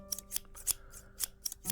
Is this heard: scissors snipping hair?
yes